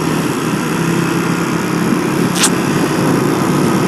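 A Suzuki GSX-S 150 motorcycle engine drones steadily while riding, a continuous buzzing hum with wind rush around a helmet camera and a brief high whine midway.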